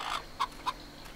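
A few short hen clucks in a video game, three separate bursts spaced apart, fairly close and clear over a quiet background, on a fruit farm.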